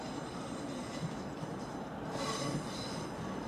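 A Class 150 diesel train arriving at Bedford on the Marston Vale line after a tight curve, steady loud rumble of wheels on rails with a rising squeal of metal, heard close and continuous.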